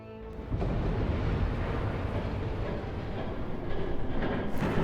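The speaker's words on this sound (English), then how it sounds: "There's a train coming." In the video game Batman The Telltale Series, a train rushes past with a sudden swell of heavy, rumbling noise that stays loud and steady for several seconds, with no talking.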